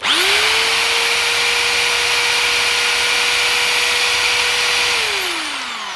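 Makita HR2020 SDS rotary hammer drill running freely after a switch replacement: a sharp spin-up into a loud, steady high whine that holds for several seconds, then winds down as the trigger is released.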